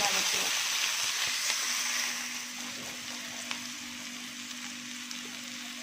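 Onion and curry leaves sautéing in a pan, a steady broadband sizzle that is louder at first and settles into a softer, continuous fry with a few faint stirring ticks.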